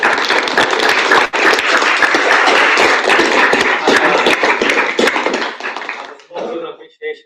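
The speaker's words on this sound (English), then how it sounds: "Let's have a big round of applause." Loud, close applause from the audience at the end of a BAFUNCS panel at King's College, many hands clapping densely for about five seconds before thinning out into scattered claps and voices.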